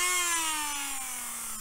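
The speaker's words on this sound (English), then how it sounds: "you can use an electric drill, a bit like a Dremel" A small electric rotary tool similar to a Dremel spins at high speed close by, producing a bright, steady whine that slowly drops in pitch as it winds down, with no talking.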